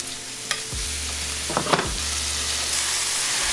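Mushrooms frying in a pan as they turn tender, a steady close sizzle with a few sharp stirring scrapes and clinks near the start, and no voices.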